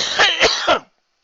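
A sick person with the flu coughs about three times in a quick, harsh, throaty burst, close and fairly loud, followed by silence.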